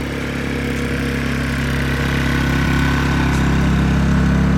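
A Westinghouse iGen2550c inverter generator runs steadily with a low, even engine drone, heard from about 20 to 25 feet away with the muffler facing the listener, loud and unbroken and with no voices.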